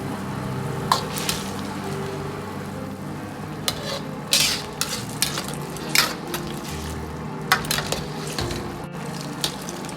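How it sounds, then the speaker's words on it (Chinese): Wood ear fungus and red and green chili peppers stirred with a ladle in boiling water, a continuous bubbling rumble with sharp scraping clinks and pushes of the ladle against the wok, close and without talk. "开锅后再下入青红辣椒，用勺子推匀，煮至40秒钟即可关火捞出"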